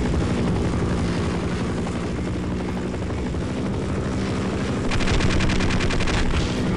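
Helicopter rotor drone and bursts of gunfire in the video game Half-Life, with the player crossing a minefield while helicopters give chase; loud, steady throb throughout with rapid machine-gun rattle, heaviest near the end.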